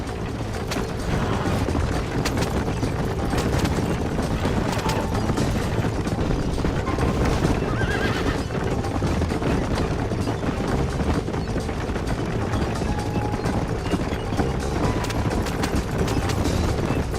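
Horses gallop in Red Dead Redemption on the Xbox 360, a dense, continuous rumble of hoofbeats and clatter that stays loud and steady throughout, with no voices.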